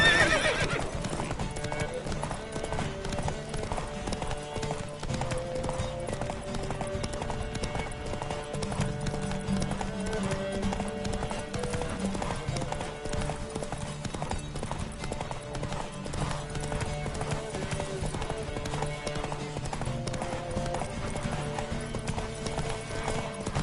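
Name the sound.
horse galloping in a race, from video game The Witcher 3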